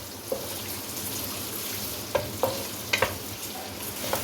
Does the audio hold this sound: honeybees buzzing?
no